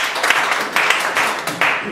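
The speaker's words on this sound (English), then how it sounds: "let's give you a hand of applause because you did not prepare" Group applause at a pitching workshop, a steady patter of many hands clapping close by for a couple of seconds, with slight surges in intensity.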